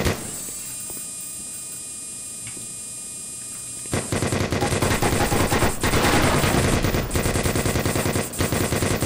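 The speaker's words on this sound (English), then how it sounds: "You gotta go while the scientist is getting shot up." Sustained rapid automatic gunfire rattles in the video game Black Mesa as a scientist gets shot up. It starts after a quieter stretch of humming game ambience and then stays loud and dense with a few heavier bangs.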